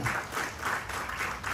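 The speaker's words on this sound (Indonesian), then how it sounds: "Beri tepuk tangan yang meriah bagi Allah kita." A church congregation applauds in a worship service, a dense, steady wash of clapping throughout with no pause.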